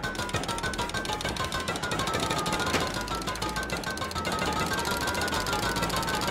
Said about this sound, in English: We're going to jackhammer this wall here and then up and repair and come down and repair